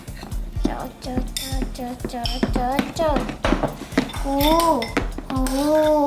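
Chopsticks clink and tap repeatedly against a bowl while stirring cake batter for a giant homemade castella, with voices talking and singing over the steady clatter.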